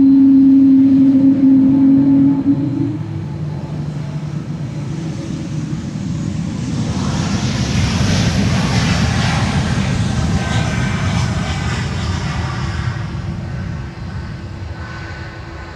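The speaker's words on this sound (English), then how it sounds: "That's an E2 Embraer 195" An Embraer E2 195 jet taking off from Schiphol's Polderbaan runway 36L, its broad engine roar swelling after a brief thump and holding steady at close range before slowly fading.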